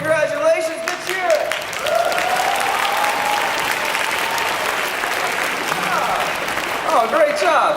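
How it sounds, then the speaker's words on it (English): An audience at a grade 7 school band concert breaks into sustained applause, a dense, even wash of many hands clapping that fills the room for several seconds, with a voice speaking over it at the start and end. "Big round of applause."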